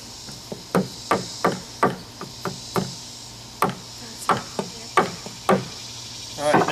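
Sharp wooden thwacks of a stick striking the spine of a knife during batoning, about a dozen spaced, uneven blows, close and fairly loud with no voices over them.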